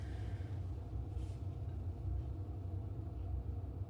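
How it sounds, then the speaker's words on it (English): A steady, low whirring hum from a boiler drones continuously in the background, even and unbroken throughout. "that whirring noise is our boiler"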